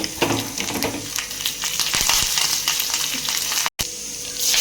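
Cumin seeds and curry leaves sizzle loudly in hot oil for a ridge gourd dal curry, a dense continuous crackle with a few stirring scrapes, close up, no talking.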